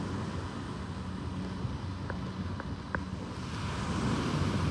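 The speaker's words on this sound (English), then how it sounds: "This beach will have a lot of people come out and swim. This water is healing water." Ocean waves wash onto a beach at sunrise in a steady, broad roar of surf mixed with wind buffeting the microphone, with a few faint distant tones and no talking.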